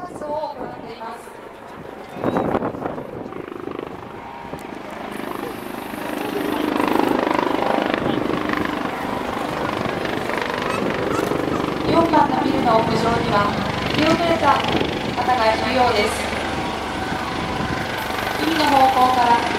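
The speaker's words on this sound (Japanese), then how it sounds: "海の方向から消防ヘリコプターが到着し救助活動を行います。" Steady rotor roar of a fire department rescue helicopter arriving over a Tokyo Fire Department New Year exhibition drill fills the scene, loud and continuous, with wind rumble and a voice speaking over it.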